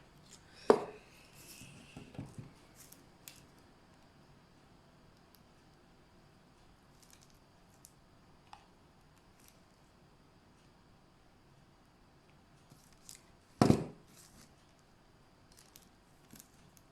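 Small scissors cut through thin wooden craft sticks for a photo frame, giving a few sharp, crunchy snips spaced far apart, with faint handling clicks in the quiet between.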